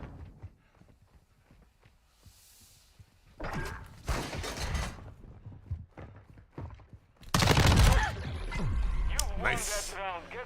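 A flash grenade thrown in Call of Duty Modern Warfare 2 bursts with a loud, sharp bang after scattered quieter game sounds and clatter, followed by a ringing tail and further noise.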